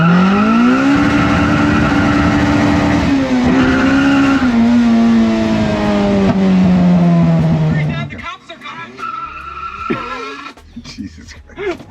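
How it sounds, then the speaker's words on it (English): A Honda CRX with a B18 engine pulls hard with a loud, rising engine note and squealing tires for about eight seconds, then drops off into quieter road noise and talk. "Even going 45 miles an hour in the CRX is very nerve-wracking."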